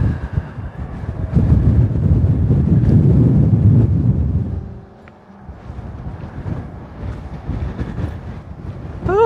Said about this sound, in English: Oh, this wind is ferocious.